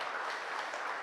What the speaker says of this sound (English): let's just give NCC a round of applause here